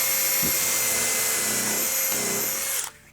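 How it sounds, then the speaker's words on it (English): A power drill with a 1/8 inch countersink bit pre-drills a hole while installing an exterior door, whirring at high speed for nearly three seconds, close and loud, then winding down abruptly to near silence. "you'll want to pre-drill using a 1/8 inch with a countersink bit"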